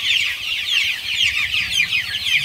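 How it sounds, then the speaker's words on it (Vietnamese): Tet-season chickens clucking inside a coop, a dense, continuous chorus of overlapping clucks and chatter from several birds close by, steady throughout. "Đây là gà này là nuôi Tết nè, gà Tết rồi mọi người."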